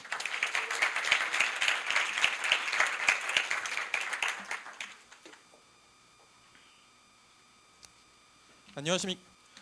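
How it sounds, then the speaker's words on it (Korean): Audience applause welcoming a startup founder onstage at a Korea University business school event: a loud burst of many hands clapping for about five seconds, then fading to a quiet room before a brief voice. "권재우 대표를 박수로 맞아주시기 바랍니다"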